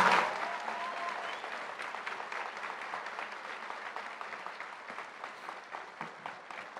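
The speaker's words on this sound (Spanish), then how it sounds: "Un aplauso para ellos" Applause at a graduation ceremony as graduates receive diplomas, a crowd clapping steadily at moderate distance, starting loud and gradually tapering to softer, scattered claps.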